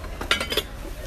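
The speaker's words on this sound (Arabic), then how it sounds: "ومن قسم الصواني تعالوا نشوف الصواني القزاز اللي توفرت عندنا." Glass baking trays with lids clink together in a few quick, light knocks, close and fairly soft, with faint background noise between them.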